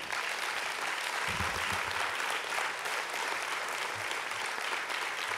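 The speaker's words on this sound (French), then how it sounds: "Demandez des applaudissements pour eux, ça leur fera plaisir." Audience applause fills a hall at a French event honouring contributors to a sustainable energy project, a steady broadband clapping that holds at even loudness throughout, with a brief low rumble partway through.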